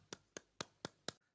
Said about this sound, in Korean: 그럼 필리핀의 라니쉬 소기 사장님을 박수로 환영하겠습니다